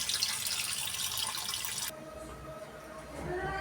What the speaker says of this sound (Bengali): মাছটি এখন ধুয়ে নেব